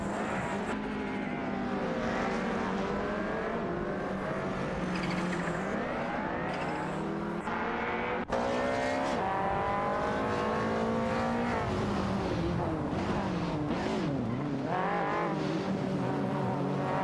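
Race cars in a video game race: overlapping engine tones rise and fall steadily as the cars jostle for position, a continuous loud drone with pitch sweeps and a brief dropout near the middle, no talk.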